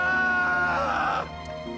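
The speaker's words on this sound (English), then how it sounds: "That's it? He screams?" A character in the video game AI: The Somnium Files lets out a loud, strained scream that holds for about a second before breaking off, with the game's music running quietly underneath.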